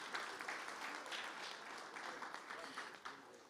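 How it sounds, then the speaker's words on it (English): An audience at an Indigenous clean energy forum gives warm applause for a former vice chief, a continuous spread of clapping heard faintly and evenly throughout. "let's give him a warm applause"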